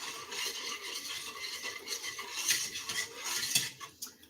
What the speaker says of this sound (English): I'm going to bring this to a simmer, stirring to dissolve the sugar